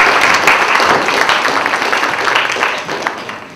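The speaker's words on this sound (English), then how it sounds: "If you give them a round of applause." A crowd applauds steadily as panellists are welcomed onto the stage, a loud continuous wash of clapping that softens slightly toward the end.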